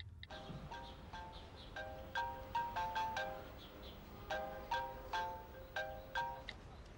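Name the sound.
phone ringing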